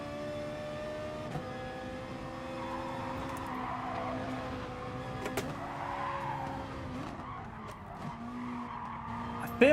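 A Ferrari race car in the GT Sport video game holds a steady engine drone with harmonic bands, tire squeal and skidding running beneath it, plus brief clicks and a rise at the end.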